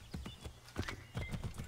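Horse hooves clip-clopping in Assassin's Creed 3, a quick run of steady beats with a short whinny-like tone, close and fairly loud with no talk.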